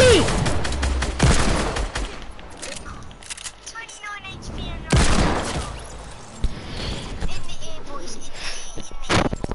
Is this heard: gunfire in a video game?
yes